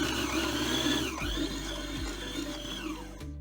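Stand mixer working baguette dough at high speed, a steady close mechanical whir with a rhythmic motor hum throughout, dipping briefly twice as the load shifts.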